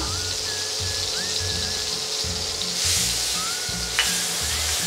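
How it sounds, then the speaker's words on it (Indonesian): Steady sizzling of garlic frying in hot oil, a continuous crackling hiss with occasional stirring scrapes, close and fairly loud. "Yang pertama kita masukin bawang putih gorengnya ya guys."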